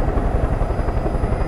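A helicopter flying overhead as a chopper-cam feed during a diecast car race broadcast, heard as a loud, continuous rotor thrum and engine roar with a pulsing low beat and no voices.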